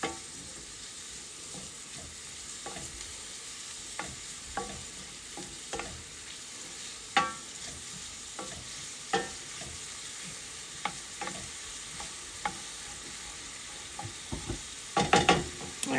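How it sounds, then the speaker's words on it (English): Vegetables sautéing in a pan for homemade lasagna give a steady broadband sizzle, with scattered stirring clicks and scrapes and a busier burst of stirring near the end, all without talk. "We're going to just saute those a little bit."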